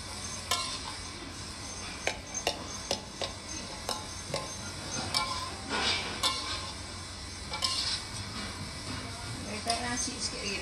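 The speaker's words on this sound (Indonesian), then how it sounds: "masak nasi goreng pakai kuali legend" Nasi goreng is stirred and fried in an old, well-used wok, with repeated scraping and clanking of the spatula over a steady sizzle. Voices chat throughout.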